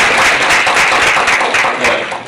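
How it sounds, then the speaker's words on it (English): A workshop audience at a developer conference applauds the speaker at the end of the session: dense, loud, steady clapping from many hands that tapers slightly at the close. "Let's give a round of applause for"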